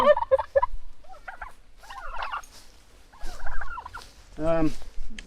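Turkeys gobble in a chicken and turkey tractor, with several quick close gobbles at the start, scattered fowl calls through the middle and a louder drawn-out gobble near the end.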